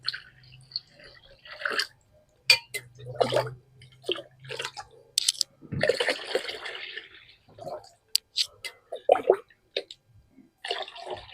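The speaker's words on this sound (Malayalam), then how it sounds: "നമുക്ക് അഞ്ച് ലിറ്റർ വെള്ളം നമുക്ക് ഇതിനകത്തേക്ക് ചേർത്ത് കൊടുക്കണം" Water poured into a container of yeast-based plant fertilizer, splashing and trickling in irregular bursts with drips between, while someone talks nearby.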